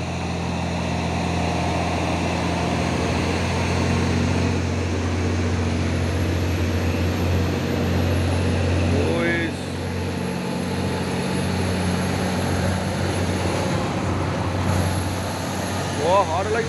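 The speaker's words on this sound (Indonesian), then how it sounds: "Banyak kali nih truk trailer si Basurya yang lewat ini ya" Trailer trucks hauling containers pass along the road, making a heavy, continuous engine rumble that stays loud and close for the whole stretch, with only slight swells as each vehicle goes by.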